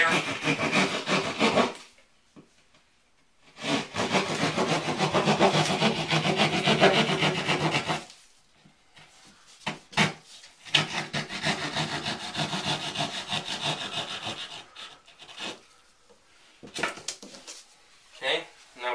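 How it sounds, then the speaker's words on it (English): A handsaw cuts a square hole in drywall during interior house work, with bursts of rough, scratchy strokes, a long steady run of sawing, then shorter choppy strokes, close and loud, with brief talk in the pauses. "So I'm just using a little straight edge here. Okay, so we've got the saw. We're going to go ahead and just cut out the hole"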